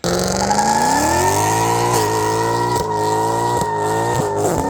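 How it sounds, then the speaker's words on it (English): The M156 V8 engine of a Mercedes E63 AMG revs up loudly and close, climbing in pitch then dropping back in several quick sharp blips, with no talking. "The mufflers and the sound of this car, just the M156 in general, is like no other car"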